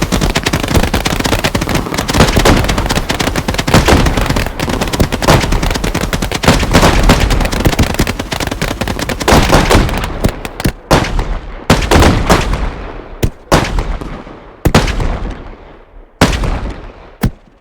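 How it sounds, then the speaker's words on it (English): Fireworks show in the game Fireworks Mania, a dense loud barrage of rapid crackling bursts that thins out toward the end into separate sharp bangs and their decaying tails. "This is a fireworks show."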